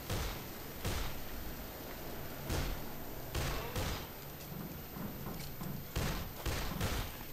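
Scattered gunshots in Dead Island Riptide, about eight sharp cracks spaced irregularly over a steady noisy backdrop, fairly faint overall.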